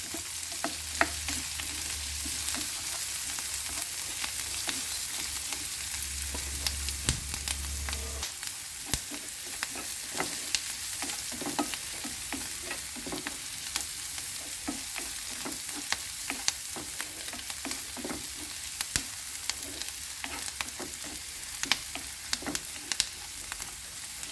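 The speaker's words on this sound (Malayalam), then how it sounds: "എണ്ണ നന്നായി ചൂടായി വരുമ്പോൾ നമുക്ക് ഇതിലേക്ക് സവോള ഇഞ്ചി വെളുത്തുള്ളി ഇതും ചേർത്ത് നന്നായിട്ടൊന്ന് വഴറ്റിയെടുക്കാം" Onion, ginger and garlic sauté in hot oil for an onion chutney, a steady close crackling sizzle running throughout with frequent spatula scrapes and stirs.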